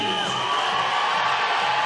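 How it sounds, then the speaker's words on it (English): Crowd cheering in a home club pool in Glasgow during the women's 3m springboard diving final at the 2018 European Championships, a steady, dense roar of applause and whoops throughout. "Big cheer for Grace Reed, the girl from Edinburgh, representing Great Britain in her home club pool"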